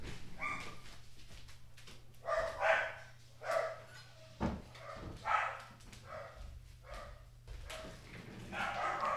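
Several dogs barking repeatedly in bursts nearby, with a steady low hum running underneath and occasional yips between barks.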